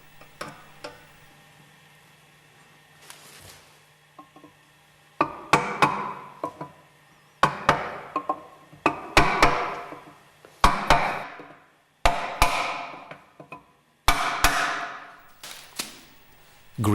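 Metal parts clank and knock while a vibration absorber is fitted on a Westfalia purifier during an overhaul, with a run of sharp, close impacts and scrapes in irregular bursts after a quieter start.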